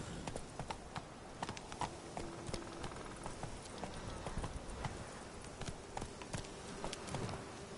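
Hooves of a horse named Roach clip-clopping in a video game, a steady trotting rhythm of sharp clops over ambient background, continuous and moderately close.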